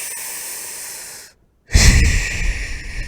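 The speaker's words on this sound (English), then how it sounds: "We want to do about 5 breaths of the belly breathing." Deep belly breathing during a kettlebell warm-up: a steady airy exhale, a brief silent pause, then a loud, rushing breath close to the mic.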